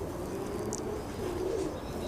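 Soft, low cooing of a pigeon, faint and somewhat distant over a steady background hum.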